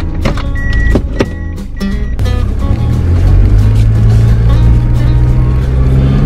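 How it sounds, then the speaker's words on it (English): A 24-year-old truck idles and purrs nearby, a steady low engine rumble that settles into a smooth, continuous drone after a few brief knocks and clatters at the start. "Listen to that truck purr."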